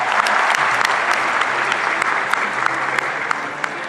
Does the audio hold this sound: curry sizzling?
no